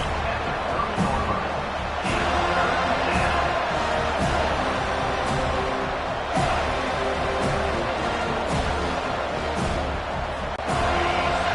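A home crowd at a college football game between FSU and LSU roars steadily and loudly on third down, with a dense wall of cheering and scattered thumps throughout.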